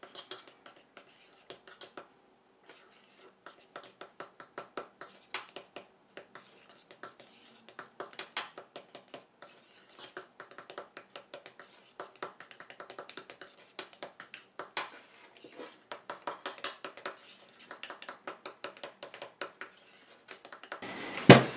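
A spoon stirs a homemade after-sun lotion mixture in a bowl, making a steady run of quick, light clinks and taps against the sides, close and fairly soft, with no voices.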